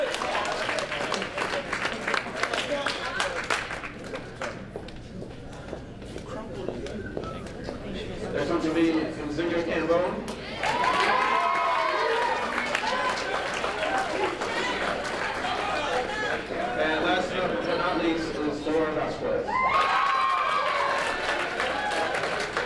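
Clapping breaks out at a Princeton High School football awards dinner, bursts of crowd applause from a banquet room alternating with a speaker talking over a microphone.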